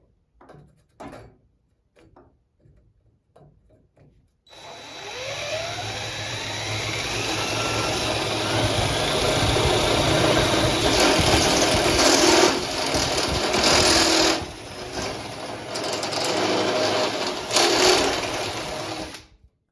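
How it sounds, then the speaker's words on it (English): A power drill running a step bit through metal to open a 5/8-inch bolt hole while mounting a Bosch router table to a Ridgid table saw, preceded by a few sharp clicks, then a loud sustained whine and grinding that rises and wavers for about fifteen seconds. "now we're essentially going to drill to 5/8, which we'll do the first hole and test it to see if the bolt fits through"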